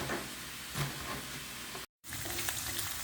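Minced meat and onions frying in a pan give a steady, close sizzle, with faint stirring scrapes and a brief dropout in the middle.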